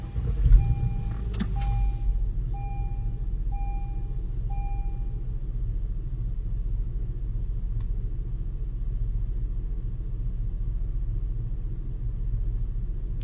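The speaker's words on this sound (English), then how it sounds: "Now let's go ahead and start up the vehicle." A car starts up and settles into a steady low engine rumble that runs throughout, with a few short electronic chimes early on from the dashboard. No one speaks.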